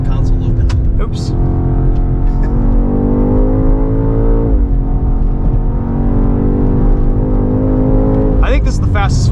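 A 2024 BMW X6 M Competition accelerates hard on a race track, its engine roaring loudly and steadily from inside the cabin with rising and falling revs and a brief gear-change dip midway, while people talk over it.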